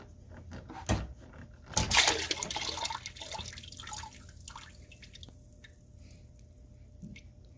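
Engine coolant gushing from a removed bottom hose on a 7.3L Power Stroke engine, a sudden splashing burst onto the floor that tapers into drips and trickling.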